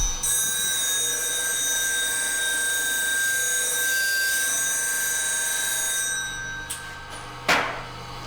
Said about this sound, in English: I'm actually going to come round to the side, match that up and just grind the face.